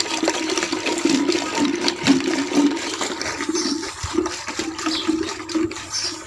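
A wooden hand churner swishes and sloshes through raw lassi with ice in a village kitchen. The liquid churns steadily and fairly loudly with no talk over it.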